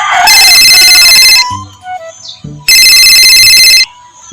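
A telephone ringtone sounds in two long loud bursts separated by a short gap with faint background noise, close and clear, with no talking over it.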